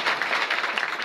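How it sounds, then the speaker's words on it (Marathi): Audience applause at a Marathi devotional kirtan gathering, a steady dense clapping from a crowd held for about a second, fairly loud with no voices over it. "टाळी वाजवा एक बार जोरात"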